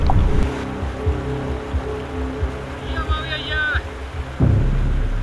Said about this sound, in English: we soon found our first obstacle, the raging, icy cold jungle river.